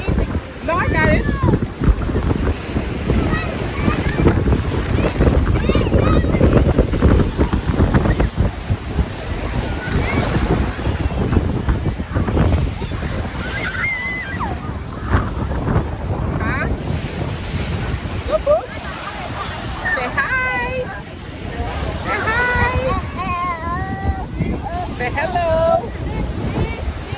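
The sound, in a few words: strong wind on a beach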